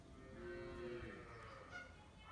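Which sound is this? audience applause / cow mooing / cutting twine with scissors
cow mooing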